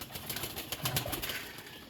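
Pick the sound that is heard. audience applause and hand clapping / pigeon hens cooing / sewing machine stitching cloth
pigeon hens cooing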